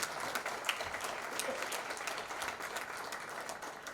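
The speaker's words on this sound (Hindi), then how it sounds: "सबसे रिक्वेस्ट है कि तालियां बजाएं ताकि ये आशीर्वाद" A hall audience claps steadily at a book launch event, the applause moderately distant and even throughout, with no voices standing out.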